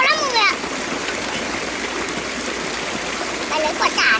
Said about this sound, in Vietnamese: ngay dưới chân anh em mình là một cái suối